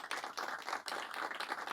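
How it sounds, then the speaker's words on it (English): A small audience claps for a presenter, a brief, close run of quick, uneven hand claps lasting under two seconds with no talk over it. "clap it up for Omar"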